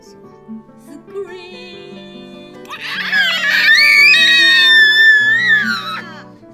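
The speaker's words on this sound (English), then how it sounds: "If you see a crocodile, don't forget to" Children's sing-along of Row, Row, Row Your Boat with Australian animals, where a melodic sung line gives way to loud, high screaming voices that fill the last few seconds over the backing music.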